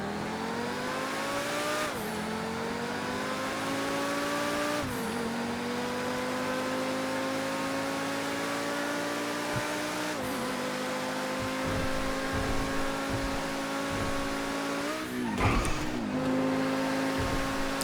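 A simulated SSC Tuatara hypercar in GTA 5 screams at very high speed, its engine droning loud and steady with rising pitch through repeated gear shifts, each change marked by a brief dip before the tone climbs again, plus a rough burst near the end.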